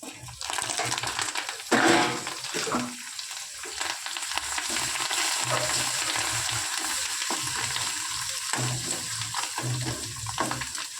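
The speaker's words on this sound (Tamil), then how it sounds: "தாளித்து கொட்டியாச்சு" Curry leaves and coriander tipped into hot oil for lemon rice tempering, a loud, close crackling sizzle with stirring scrapes that flares at the start and keeps frying steadily, without talk.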